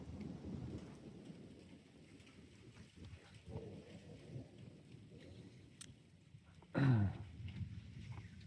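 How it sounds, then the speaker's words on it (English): Steady rain patters throughout a thunderstorm on the Saint Mary's River, with a low rumble of distant thunder building and a sharper thunderclap near the end. "Hear the thunder?"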